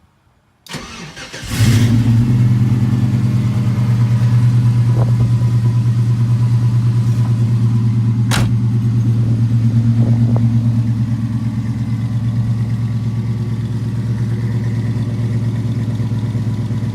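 A 1969 Camaro RestoMod cranks and fires up, its engine catching after a brief start and then settling into a steady, loud, deep idle that runs alone for the rest of the stretch, with a sharp click partway through.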